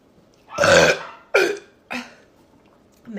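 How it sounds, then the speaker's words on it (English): A woman lets out three burps in quick succession, a long loud one followed by two shorter, fading ones, close and alone. "I'm just gonna fucking burp instead"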